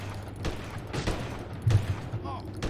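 Gunfire in the airship video game Windforge: several sharp shots spaced irregularly, fairly quiet and mixed with soft game ambience and some faint talk.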